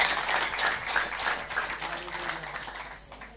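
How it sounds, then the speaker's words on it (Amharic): Church congregation clapping in worship, a rhythmic, moderately loud burst that thins out toward the end, with voices faintly audible beneath. "አጨብጭቡ ለጌታ።"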